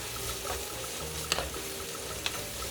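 Squid and pork bulgogi stir-frying in a pan: a steady, close sizzle with soft scraping and stirring clicks, and no voices.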